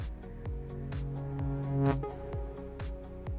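A synth lead in FL Studio with volume automation starts softer and mellower, then swells into its sustained notes over a steady, evenly spaced beat.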